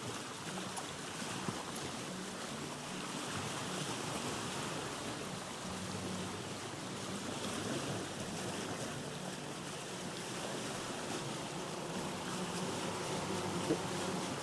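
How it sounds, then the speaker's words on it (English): Bees buzz around a tree near a river in a video game, a faint steady drone layered over a continuous wash of water noise. "Bees are buzzing around in a tree near there."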